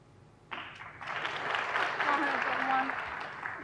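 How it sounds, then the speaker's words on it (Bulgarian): Audience applause at a snooker match between Trump and Lisowski, starting abruptly and swelling into a loud, sustained ovation from a crowd in the arena, lasting a few seconds without a break. "Публиката аплодира"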